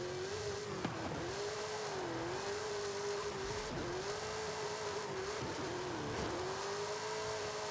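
Engine of a Mustang Spec 5 RTR drift build in Forza Horizon 5, droning steadily at high revs with repeated dips and climbs as it slides through a drift zone, continuous and close without pause.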